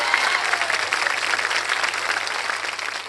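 Audience applause at a public event, a continuous wash of many hands clapping at an even, moderately loud level with no speech over it.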